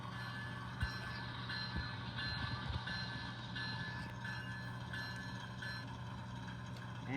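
A bell effect rings from an NS HO scale model locomotive in evenly spaced strikes, roughly one per second, over a constant low engine hum.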